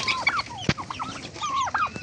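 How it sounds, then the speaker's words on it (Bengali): Native desi chickens on a Bangladeshi farm give several close clucks and short rising calls within two seconds, with one sharp knock in between. "এখানে যে মুরগিগুলা দেখতেছেন ওই যে লাইটের জন্য দেখা যাচ্ছে না, এগুলো সব দেশি পিওর দেশি মুরগি।"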